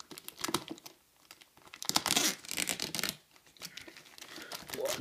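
A knife slices open a large cardboard box holding networking gear. Close, scratchy tearing and crinkling comes in uneven bursts, the loudest in the middle, with no voices.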